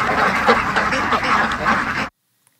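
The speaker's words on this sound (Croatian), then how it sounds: "Pusti video sa 1000 patki kako prelazi cestu" A large flock of about a thousand ducks quacking while crossing a road, a dense, continuous chorus of overlapping quacks at close range that stops abruptly into silence.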